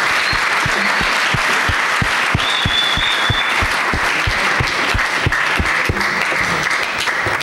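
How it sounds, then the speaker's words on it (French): Congregation at an Easter celebration in a Catholic church in Koungheul claps loudly and continuously, a dense, close wash of applause with rhythmic beats running through it. "On peut les applaudir très fort, s'il vous plaît."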